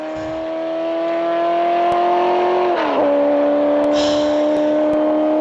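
A Porsche race car at the Le Mans Classic roars past loud and close, its engine note holding high and then dropping sharply as it goes by, with a brief gearshift or lift mid-pass.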